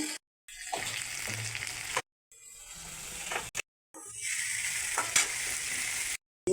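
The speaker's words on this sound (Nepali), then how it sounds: "अब यसलाई अलिकति फ्राई गर्छु। हल्दी हाल्दैछु, नुन हाल्दैछु," Spices with turmeric and salt frying in a pan for a fish curry, giving a steady sizzle broken by short silent gaps and occasional stirring scrapes, close and fairly soft, with no talk.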